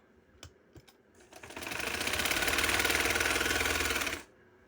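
Sewing machine stitching a strip of fabric for a V-cut neck design, a steady rapid mechanical whir running loud for about three seconds after a few soft clicks, then stopping abruptly.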